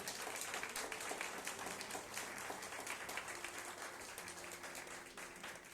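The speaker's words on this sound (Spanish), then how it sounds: "Dale ese aplauso al Rey." A church congregation applauds during a sermon, a steady wash of many hands clapping that sounds soft and somewhat distant and carries on for several seconds.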